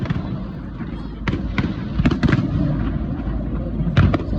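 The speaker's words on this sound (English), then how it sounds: "the fireworks had begun." Fireworks burst at a crowded public celebration in Victoria, BC, with loud irregular bangs and crackles popping over a rumbling background of crowd noise and distant booms.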